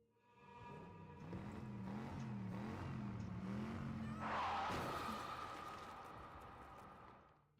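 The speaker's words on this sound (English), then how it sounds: "the peaceful surroundings of a room are shattered by the horrifying sound of a car accident" A car revs and skids in a video game, then a sudden sharp crash bursts in, followed by lingering metallic ringing and rumble; loud and close, with no voices.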